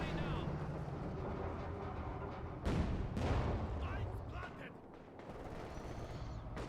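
Mortar blasts and gunfire from a Company of Heroes 2 battle, Wehrmacht against Soviets, with loud dense booms and rumbling shots surging around the middle and a continuous roar of combat beneath a commentator's voice.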